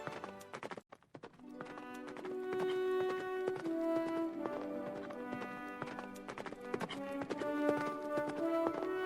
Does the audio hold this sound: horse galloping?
yes